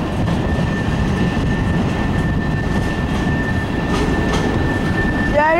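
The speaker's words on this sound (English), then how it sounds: "here comes those CN engines. This train's going a little bit faster." CN freight train locomotives rumble past close by with a heavy, steady roar of engines and wheels. A faint high tone rings over the noise.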